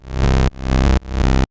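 A plucky sawtooth bass from the Serum synth, tuned down an octave for melodic techno, plays three loud, evenly spaced notes, each swelling with a buzzy, rising filter sweep before cutting off abruptly.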